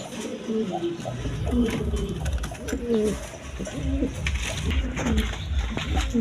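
A pair of Danish pigeons kept for sale coo repeatedly at close range in soft, rolling phrases against a faint background hum.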